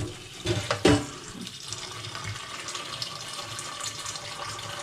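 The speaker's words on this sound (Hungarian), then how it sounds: "És csak annyi vizet teszünk, amennyi indokolt." Water from a tap splashes into a pot of red-wine lamb stew, a brief louder gush at first, then a steady, softer trickling pour.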